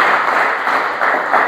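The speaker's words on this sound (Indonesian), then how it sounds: "Beri tepuk tangan terbaik." Church congregation applauding, a dense, steady wash of many hands clapping together at moderate loudness, with no speech over it.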